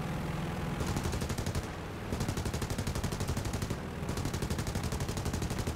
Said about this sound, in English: We got hit ourselves on that fuel tank. And we have a lot of Spitfires running around here. Give me some ammo. We have machine guns back.